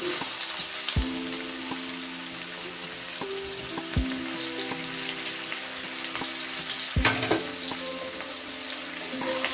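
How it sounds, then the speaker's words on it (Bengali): Chopped onions sizzle in hot oil in a home kitchen for a Bengali prawn curry, a continuous close fry broken by several sharp spatula knocks against the pan and a splashy surge near the end, with no voices. "পেঁয়াজ কুচিগুলো একটু লাল করে ভাজতে হবে।"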